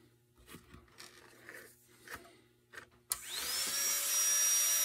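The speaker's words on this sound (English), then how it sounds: "So I'm going to drill that out" A rotary tool fitted with a burr drills out wood while mounting a carved chickadee. Faint scrapes and taps lead in, then a high, steady whine spins up sharply and holds close to the end.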